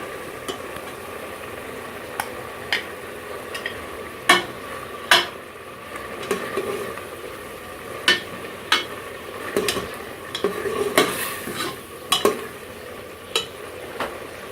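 Black chickpeas with ginger paste and green chillies being stirred and roasted in a pan over medium heat, a steady sizzle broken by repeated sharp spoon scrapes and clacks against the pan.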